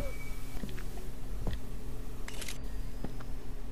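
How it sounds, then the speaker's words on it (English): In the horror video game Visage, a camera shutter fires as a few brief, sharp clicks over a low, dark ambient background. "That was the noise of a camera."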